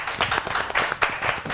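Studio audience on a Pakistani morning television show applauds as a guest is welcomed, a brief burst of clapping with a crowd-like wash.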